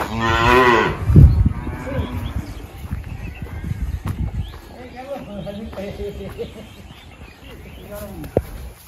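Cattle outdoors with a calf nearby, a low cow call near the start among rustling and handling noises, while people talk throughout.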